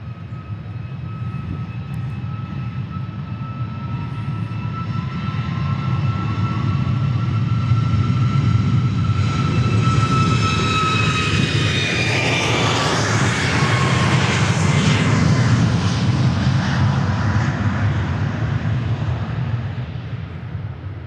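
An airliner departing Dallas Love Field for LaGuardia roars loudly and close, its engine thrust building into a sustained powerful rumble with whining tones, then slowly easing as it moves away.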